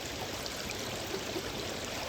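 Steady stream water flows continuously, a constant broadband rush and trickle at moderate level with no voices over it.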